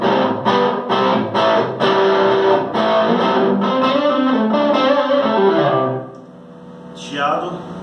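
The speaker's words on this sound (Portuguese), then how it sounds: "Então eu vou ligar um pedal de drive." An SX SST57 electric guitar runs through a drive pedal, giving loud, gritty distorted chords that ring steadily, then drop to a hissy hum before a brief swell at the end.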